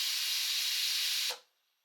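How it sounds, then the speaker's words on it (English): A Tefal Cook4Me pressure cooker vents excess steam as pasta cooks, producing a loud, steady broadband hiss that cuts off abruptly after about a second and a quarter, leaving near silence. "the cooker may automatically release some excess pressure during cooking"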